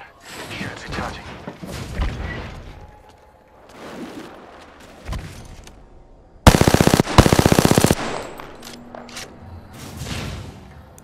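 Automatic gunfire erupts in a loud, rapid burst of about a second and a half during a firefight in Apex Legends, set against softer game sounds and movement noise before and after.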